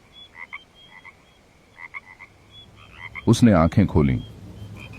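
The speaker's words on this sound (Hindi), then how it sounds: "बाहर से मेंढकों की आवाज आ रही है" Faint frog calls trill in short repeated bursts, then a voice speaks briefly over them near the end.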